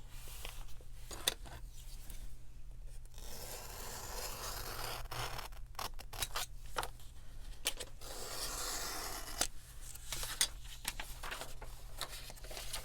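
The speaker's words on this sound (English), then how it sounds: "I think I'm going to cut that out." Scissors cutting paper for a lace-themed glue book, heard as steady close rasping and snipping with soft rustles of the sheet, continuous and fairly quiet, with no voice.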